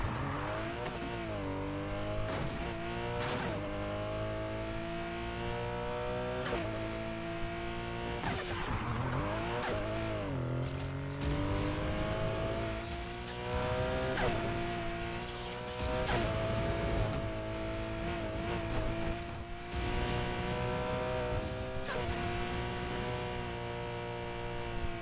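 Race cars in Need for Speed Heat rev hard, with rising and falling engine pitch through repeated gear shifts and occasional tire squeal, sustained and close for the whole stretch.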